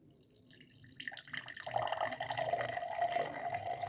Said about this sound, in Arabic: احنا دلوقتي هنعبي الكوباية بتاعت العرقسوس